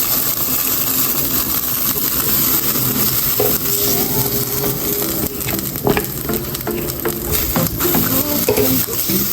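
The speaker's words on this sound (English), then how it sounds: "we're gonna start cooking our garlic" Garlic frying in oil in a pan, a bright steady sizzle with spatula scrapes and taps on the pan growing busier midway, close and loud, no talk.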